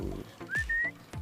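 A person whistles to call back a pet dog that nearly went missing, giving two short rising whistle notes back to back, close and clear over faint outdoor background noise.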